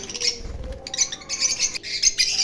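Small birds chirp and tweet close by in a rooftop bird farm, with quick repeated high calls in overlapping bursts and a low coo beneath, heard on a rainy day with the windows shut.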